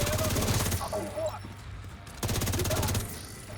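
A Lexington assault rifle fires in a video game in two long, rapid automatic bursts separated by a short pause, loud and close, with a voice heard during the shooting.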